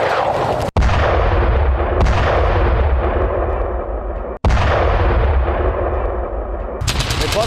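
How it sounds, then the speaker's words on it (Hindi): Heavy, continuous gunfire and artillery blasts in the Ukraine war, with a Ukrainian soldier firing a mortar at Russian troops amid ruined buildings; loud, dense booms and bursts fill the whole stretch, with brief sharp breaks between volleys. "रूसी सैनिकों पर मोर्टार दागते दिखा है यूक्रेनी जवान।"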